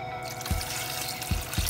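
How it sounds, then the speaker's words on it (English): Water trickles and pours into a soup pot, a steady liquid wash broken by a few soft low splashes, close and fairly quiet with no talk. "Put a little bit more water here"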